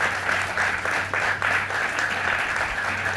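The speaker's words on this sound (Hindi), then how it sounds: "मैं चाहूँगा इनके लिए जोरदार तालियां।" An audience at a nautanki folk theatre show applauds an actress who played the queen, with sustained loud clapping from a crowd that swells in waves and continues unbroken throughout.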